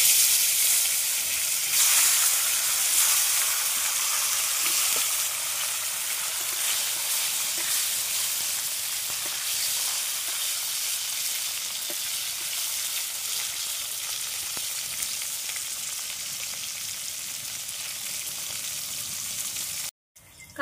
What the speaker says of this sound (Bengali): এতে কাঁকরোলটা সুন্দর করে ভেজে নেব